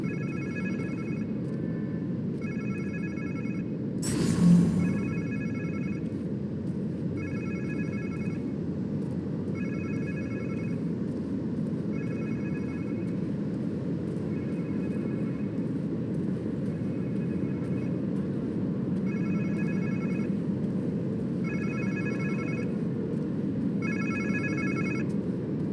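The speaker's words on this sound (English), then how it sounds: "Sounds like somebody's phone." A phone rings in Marvel's Spider-Man 2 on PC, a repeating electronic trill in evenly spaced bursts over a steady low ambient hum, with one brief louder thud early on.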